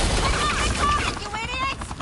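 Police gunfire in the video game Batman: The Enemy Within, heard as a dense stretch of shots and rattling fire. Voices and whistling tones sit over the top of it.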